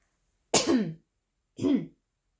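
Two close, harsh coughs, the first longer and raspy, followed about a second later by a shorter one, with silence around them.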